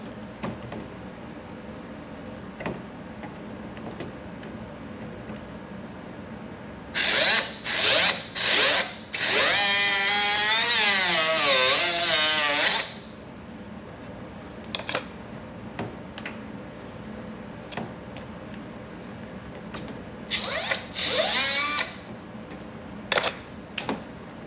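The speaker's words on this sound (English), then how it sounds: "Alright, gotta get the grinder." Angle grinder cutting the front bumper of a Toyota 4Runner TRD Pro, several short loud bursts then a sustained whining cut of a few seconds, followed later by another brief pair of bursts over quiet background.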